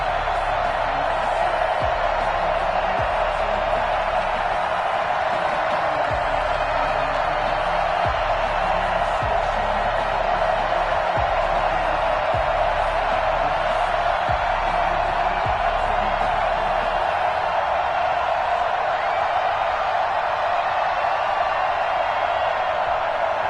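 A Baltimore Ravens stadium crowd in the Madden NFL 21 video game, Cardinals versus Ravens at M&T Bank Stadium, holds a steady, broad roar of cheering throughout, with no clear peaks.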